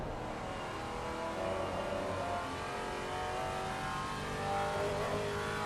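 Race car engine in Assetto Corsa Competizione, a steady near drone with harmonic lines that rise gradually as it revs, continuous and alone with no talk, holding an even loudness throughout.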